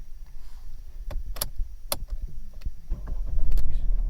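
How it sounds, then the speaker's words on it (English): A 2013 Mercedes-Benz C-Class W204 starts with a newly programmed key. A few sharp clicks from the ignition and steering lock come first, then a low engine rumble swells up near the end. "So that is a brand new key which has started the vehicle, which has been programmed."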